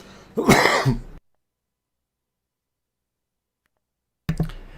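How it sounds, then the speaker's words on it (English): One harsh, close throat-clearing cough, followed by near silence and then the start of another short throat sound at the end. "glad you could hear me cough"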